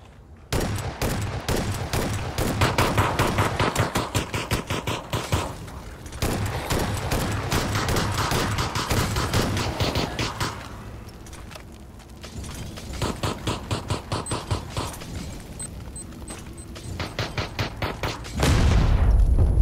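Rapid automatic gunfire in PUBG zombie mode fills the scene with dense bursts of loud shots, brief pauses between volleys and a heavy boom at the end, with no talk.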